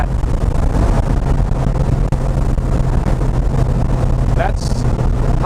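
A 1967 Porsche hot rod engine at high speed produces a steady, loud drone with buffeting wind noise throughout, plus a brief higher-pitched chirp near the end.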